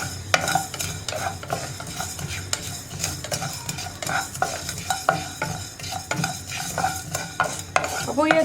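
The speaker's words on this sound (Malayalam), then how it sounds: "കടുകൊക്കെ പൊട്ടി തുടങ്ങുന്നുണ്ട്." Fenugreek and mustard seeds fry in hot oil for a bilimbi pickle, crackling and popping in scattered bursts over a steady sizzle, with a spoon scraping and stirring the pan now and then.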